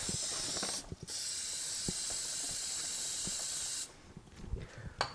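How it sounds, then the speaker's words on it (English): Two close hissing bursts of aerosol lubricant sprayed on a motorcycle chain, a short one followed by a longer sustained spray of about three seconds, with faint mechanical clicks between. "Give it another spray."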